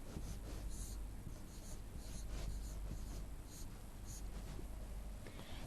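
Pen or chalk writing numbers on a surface in a classroom math lesson, a steady stream of faint scratching and tapping strokes, quiet and close.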